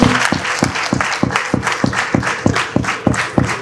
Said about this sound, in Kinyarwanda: Mudufashe tuyiha amashyi menshi n'impundu.